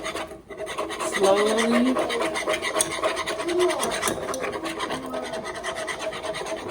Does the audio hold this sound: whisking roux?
yes